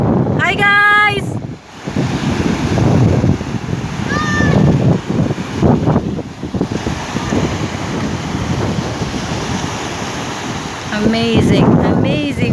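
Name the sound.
big ocean waves at high tide on beach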